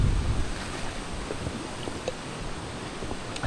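Choppy water and gusty wind along a shore in the Netherlands, a continuous rough rumble of waves with wind buffeting the microphone, steady and fairly close.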